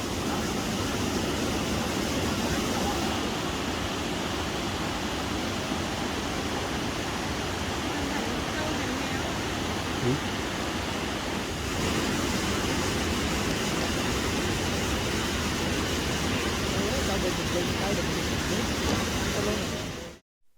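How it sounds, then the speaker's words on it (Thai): Cat Cat waterfall in the Hmong village of Cat Cat near Sapa: a steady, full rush of falling water roars without pause for about twenty seconds, close and even. "บรรยากาศของน้ำตก"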